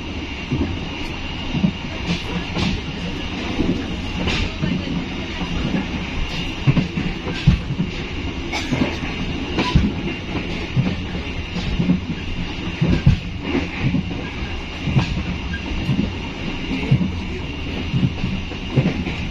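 Inside an economy class Kutojaya Selatan passenger train from Kutoarjo to Kiaracondong, a continuous rumbling ride carries rhythmic wheel clatter, rattling car noises and occasional metallic squeals and knocks.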